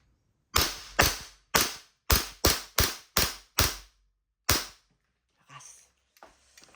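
Army Armament R501 pistol firing a string of sharp, loud shots: eight in quick rhythm, a pause, then a ninth, followed by faint handling clatter.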